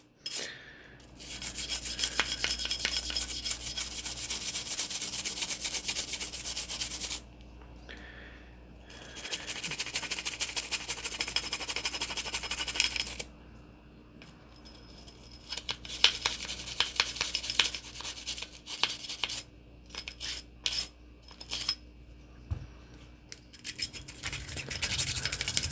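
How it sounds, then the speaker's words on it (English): A cleaning brush scrubs the slide rails of a Glock 48 Gen 5 pistol, giving close, steady rasping bursts separated by brief pauses, then shorter choppy strokes toward the end, with no talking. "Basically, you're just going through and scrubbing everything out. Get the slide rails real good."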